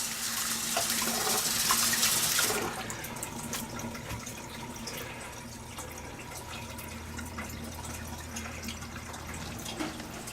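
Water drains from a sink after a Disney pet clock has been washed in it, starting with a loud rushing pour that drops after a few seconds to a quieter, steady gurgling trickle.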